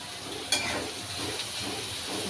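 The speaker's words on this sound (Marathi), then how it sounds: "कांदा छान असा गोल्डन कलर होईपर्यंत आपण तेलावरती फ्राय करून घेऊ" Sliced onion fries in hot oil in a home kitchen, giving a steady soft sizzle and hiss at close range, fairly quiet and continuous with no talking.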